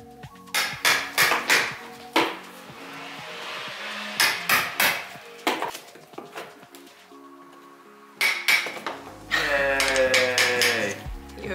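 Knuckles knocking on drywall to find a stud, with a series of sharp, hollow raps in quick clusters, close and fairly loud, followed by a short steadier noise near the end.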